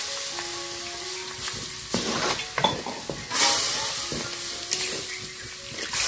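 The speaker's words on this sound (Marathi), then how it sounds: "आता आपण जे हे पीठ आहे ना चण्याचं भिजवलेलं ते टाकूया आता पटकन. आणि हलवत राहायचं लगेच" Soaked gram flour batter is stirred into pithla in a pan, with sizzling and steady scraping strokes, intermittent clinks and sharper bursts of splatter close by, no talk.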